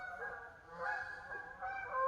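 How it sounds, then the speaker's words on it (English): A flock of geese honks continuously at a moderate distance over a campground in Belington, West Virginia, overlapping calls rising and falling in a noisy chorus. "Flock of geese, hear them?"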